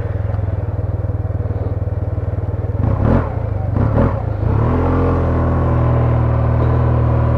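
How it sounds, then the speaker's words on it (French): Yamaha TMAX 2022 scooter engine idling with a steady low rumble, a couple of brief throttle blips mid-way, then settling back into a smooth, loud, close idle. "On a cette même symphonie du scooter."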